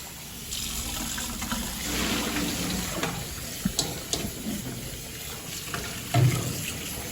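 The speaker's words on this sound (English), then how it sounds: "So we're going to rinse the rice." Water runs from a tap while parboiled rice is rinsed in a bowl or sink: a steady close splashing rush with a few sharper splashes and knocks toward the end.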